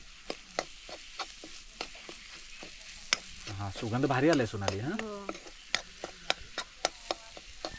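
A spoon ticks and scrapes against a pan in quick strokes over a soft sizzle of masala frying for prawn curry on a wood-fired village stove, with someone talking briefly in the middle.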